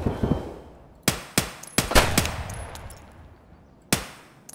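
Gunshots in the video game Escape From Tarkov, several sharp, loud, isolated cracks with short echoing tails at irregular intervals, fired close by with no talk.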